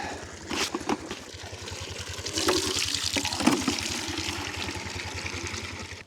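Water pouring into a container in a barn during a snowstorm, where a submersible heater keeps a livestock water tank thawed; a steady, moderately loud splashing fill runs throughout over a low rhythmic hum.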